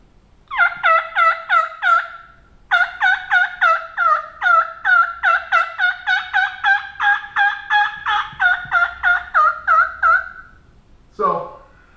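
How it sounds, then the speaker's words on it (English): A Primos WP1 mouth call gives sharp, clean turkey yelps in quick rhythmic runs, a short series, a pause, then a long string of loud notes and a final rough cutting burst. "I have a lot of control and confidence in this mouth call"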